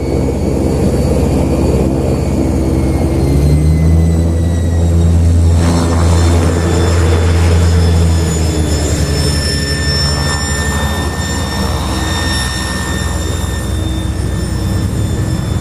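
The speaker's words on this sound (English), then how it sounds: "if you think this aircraft sounds different, oh, it certainly is." A propeller aircraft flying overhead at an airshow, with a loud, continuous engine drone whose pitch slowly bends downward as it passes close by; no talk.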